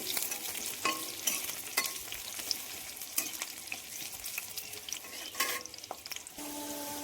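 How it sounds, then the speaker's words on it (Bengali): Potato pieces fry in oil for a chicken curry, a quiet continuous sizzle broken by scattered clicks and scrapes of a spatula stirring against the pan. "সবগুলো আলুর টুকরো তেলের মধ্যে দিয়ে ভেজে নিচ্ছি"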